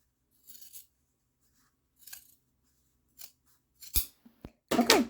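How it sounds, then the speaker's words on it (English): Scissors cut fabric up the center for a gathering and ruffling project, with a series of short crisp snips spaced irregularly and growing louder and closer toward the end. "So I just take my scissors and cut right up the center."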